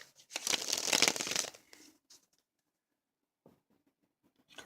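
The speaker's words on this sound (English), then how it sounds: "Cards have been shuffled thoroughly." A deck of tarot cards is shuffled by hand in a quick riffling burst lasting about two seconds, close up, followed by a few faint card taps in near silence.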